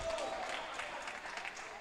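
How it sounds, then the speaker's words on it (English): Fans in a football grandstand applaud steadily under a commentator's voice, the clapping a continuous wash of crowd noise for a couple of seconds. "Lots of claps for the Andinos fans in the grandstand and also the bench beside me"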